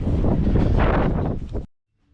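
Strong wind gusts outdoors during end-of-season tree service work, a loud steady roar buffeting the microphone that cuts off abruptly, with no talking.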